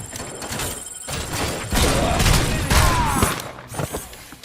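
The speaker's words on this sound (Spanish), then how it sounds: "Me están cayendo tiros de todos lados." Gunfire in the video game RoboCop Rogue City comes as a loud, dense barrage of overlapping shots and booms, with bursts clustering in the middle and trailing off into scattered impacts.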